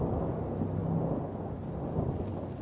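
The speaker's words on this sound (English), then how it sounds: "rain pounding on the cracked windshield of my hover" In the Hollow Body video game, heavy rain falls steadily with a low rumble of thunder rolling underneath, a dense, continuous storm texture with no voices.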